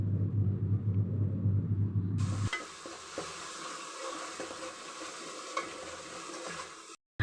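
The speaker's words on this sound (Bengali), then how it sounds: "তো আমি এখন নাড়াচাড়া করে নিচ্ছি।" Spice masala for a beef curry is stirred in a pan, a low rumble giving way to steady sizzling and scraping strokes close by, with no voices.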